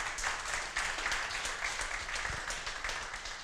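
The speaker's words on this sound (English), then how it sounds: "can you please also make some applause for them?" An audience at a Kubernetes meetup in Prague claps briefly, a moderate patter of many hands held steady for a few seconds.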